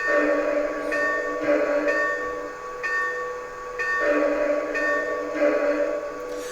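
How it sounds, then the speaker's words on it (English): Heavy brass locomotive bell, a medium-fast air ringer from a Blunami BLU-4408 model train sound decoder, clanging in a steady repeating rhythm, fairly loud and alone over a constant low hum. "let's try to go back to a heavy brass. We're going to pick a medium fast to simulate an air ringer"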